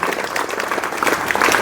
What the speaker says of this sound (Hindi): एक बार जोरदार तालियां इस बेटी के लिए